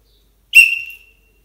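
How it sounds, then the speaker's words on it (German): A referee's whistle gives a single short, sharp blast, loud and close, with silence before and after. "dann hört es aber auch jeder auf dem Feld, dass gerade der Schiedsrichter gepfiffen hat."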